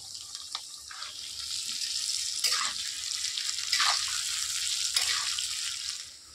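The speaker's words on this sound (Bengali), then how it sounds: "এবারে আলুগুলো একটু ভেজে নেব" Potatoes seasoned with salt and turmeric fry in mustard oil in a kadai, giving a steady, close sizzling hiss that runs throughout with no one speaking.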